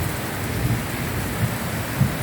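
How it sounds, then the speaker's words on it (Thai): Soft, low thunder rumbles a few times over a steady wash of falling rain. "เสียงฟ้าร้องแล้วนะคะ"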